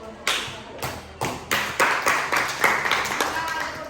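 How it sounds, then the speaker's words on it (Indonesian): Classroom applause after a group presentation, a few sharp claps building into steady clapping from a modest group of students, close and fairly loud. "Ya, tepuk tangan."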